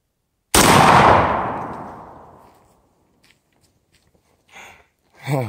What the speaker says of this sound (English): we're going to hit that bad boy now with the 12 gauge